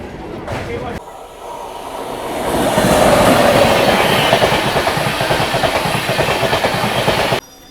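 A local train rolls along with rhythmic clickety-clack that swells into a loud, heavy rumble over the Kolaghat bridge, then cuts off abruptly.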